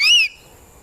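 Indian black eagle gives one loud, shrill whistled call that rises slightly then falls and breaks off after about a quarter second, leaving near silence.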